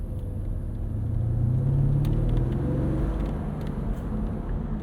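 A 2007 Mercedes-Benz SL550 with its 5.5 liter V8 pulls smoothly, a low engine drone rising gently in pitch then settling, with a faint ticking like a turn signal.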